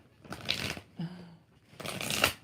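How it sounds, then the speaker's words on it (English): Tarot cards shuffled in two quick riffling bursts separated by a short pause, close and crisp, with a brief low voice sound between them. "One more shuffle."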